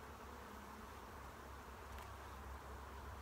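Honeybees buzz in a steady, dense drone from an open hive as a brood frame is inspected, a low continuous hum that stays level throughout with no talking.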